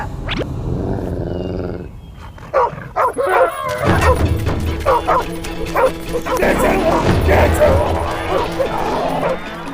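A dog barks and growls fiercely in repeated snarling bursts, close and loud, with a whimper early on and voices mixed in.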